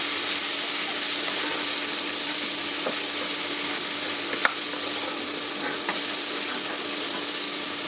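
Three vegetables frying in a pan as part of a home-cooked khichuri meal give a steady, close sizzle throughout, with a few faint clinks of a utensil against the pan.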